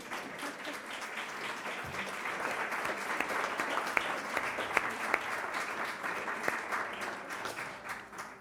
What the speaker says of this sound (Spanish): con este aplauso para los tres ponentes